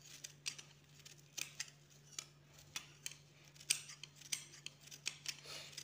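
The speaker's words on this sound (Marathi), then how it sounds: "अशा प्रकारे आपल्याला सगळं कापून घ्यायचं आहे।" Scissors snipping through gunny sack fabric in a steady series of sharp, quiet cuts, close up and with no talking, over a faint constant hum.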